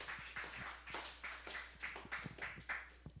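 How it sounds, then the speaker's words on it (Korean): A small church congregation claps in a quick, steady rhythm as a presenter comes forward. The clapping is soft and distant, with evenly spaced beats and no talking. "나올 때 박수"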